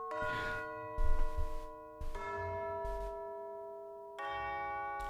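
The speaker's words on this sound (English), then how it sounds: "those tubular bells sounding great, totally usable" Sampled tubular bells from a pitched percussion library ring out in three separate struck chords, each with long sustaining metallic overtones that decay slowly, heard alone at moderate volume.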